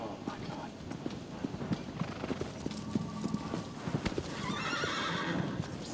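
A horse in the game Shadow of the Colossus gallops with a steady, rapid clip-clop of hooves and lets out a neigh near the end, while a person talks over the hoofbeats.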